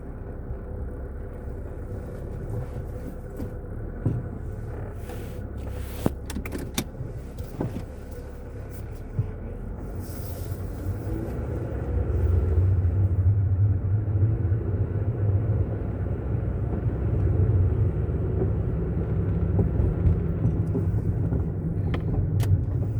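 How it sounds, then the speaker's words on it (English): Cars pass on a road around a moving vehicle, a continuous low rumble of traffic and road noise that swells louder in the second half, with occasional sharp clicks and knocks. "There are cars driving"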